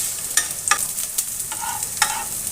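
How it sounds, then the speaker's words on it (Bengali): Diced potatoes, spices and a torn bay leaf fry in oil for a Bengali cabbage dish while a spatula scrapes and stirs the pan in quick, irregular strokes over a continuous close sizzle. "আলুটাও ভাজা হয়ে যাবে আর মশলাটাও"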